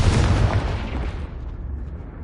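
A Confringo blasting spell explodes in Hogwarts Legacy, a loud, close, low-heavy boom with rumbling debris that slowly fades over a couple of seconds, heard alone without speech.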